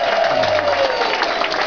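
Continuous clapping from a dining room crowd honouring junior waiters and waitresses, a dense and even wash of applause mixed with general crowd noise and a faint tone running beneath it.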